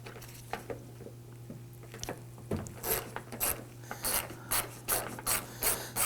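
Ratchet wrench with a T30 Torx bit loosening a door handle screw on a 2015-2024 Nissan Murano, giving close, loud bursts of rapid clicking that start sparse and grow into repeated runs of ratcheting.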